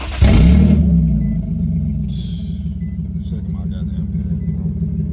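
An Infiniti G37 coupe with a loud aftermarket exhaust starts with a sharp, heavy burst that settles into a deep, steady idle rumble, close and loud.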